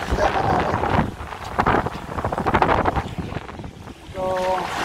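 Strong headwind buffeting a small fishing boat at sea, with gusty roaring wind noise and water rushing against the hull, loud and uneven in waves of intensity.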